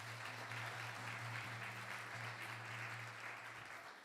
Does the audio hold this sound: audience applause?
yes